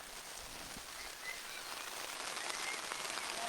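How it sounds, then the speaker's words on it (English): Heavy rain falls steadily over an outdoor baseball game, a dense, even hiss of drops on surfaces that fills the whole stretch without pause and builds slightly toward the end. "As the rain starts to come down heavily now, Doron will reach first."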